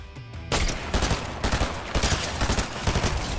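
Video game gunfire rattles out in loud, rapid automatic bursts, a short pause and then near-continuous volleys of close shots with no talking.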